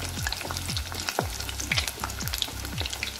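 A salmon fish head fries in a hot pan with a continuous close sizzle and spatter, and several repeated short scraping stirs against the pan, with no talk.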